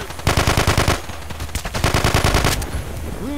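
Rapid bursts of automatic gunfire in a video game, loud and close, with rattling volleys repeating for a few seconds before fading into the game's background sound.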